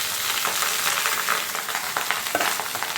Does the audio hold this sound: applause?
no